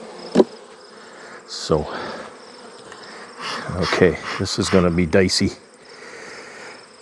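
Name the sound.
honey bees buzzing at a nuc hive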